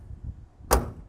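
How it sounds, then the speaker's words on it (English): A 1968 Chevrolet Camaro's driver's side door shuts once with a solid thud, preceded by faint low rumbling. "when you shut this door."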